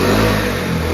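A restored 1971 Honda SL70 motorcycle's small engine revs loudly and close, a dense buzzing drone sustained throughout.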